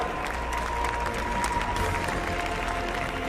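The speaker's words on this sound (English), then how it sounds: "A round of applause, please, guys." A large esports crowd at the FIFA eWorld Cup 2018 final gives sustained applause with some cheering, steady and full throughout.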